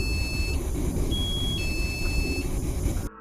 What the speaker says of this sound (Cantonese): 動態感應器突然響起警報。